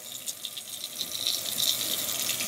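Water splashes and trickles as a washed vacuum cleaner filter is wrung out by hand. The sound is close, moderately quiet and wet, and runs continuously for a couple of seconds without talk.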